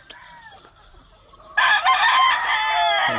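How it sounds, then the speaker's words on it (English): A gamefowl rooster on a Hawaii farm lets out one loud, close crow after a few soft clucks and calls, the crow ringing out strongly to the end. "What a rooster."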